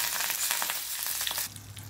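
Curry leaves crackle and sizzle in hot tempering oil with mustard seeds, cumin and asafoetida for a raw mango chutney, a dense close frying hiss that drops in level partway through.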